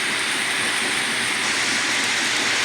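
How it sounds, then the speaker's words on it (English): Ambient model train sounds played back from an online recording, a steady broadband rumble and rolling wash with no distinct whistle, continuous and fairly loud throughout without talk. "ambient train sounds,"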